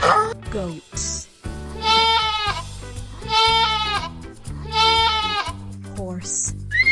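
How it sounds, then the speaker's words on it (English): Goats bleat three times in a row, each a long, wavering, fairly loud cry with short gaps between, set over light, continuous background music. "goats"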